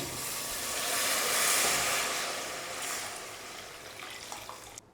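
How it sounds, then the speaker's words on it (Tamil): Water poured steadily from a vessel into a cooking pot for boiling pasta, a continuous broadband splashing rush that swells in the middle and fades near the end, with no talking. "அந்த தண்ணியை இப்போ இதில் ஆட் பண்ணிக்கிறேன்"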